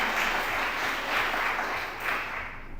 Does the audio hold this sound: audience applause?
yes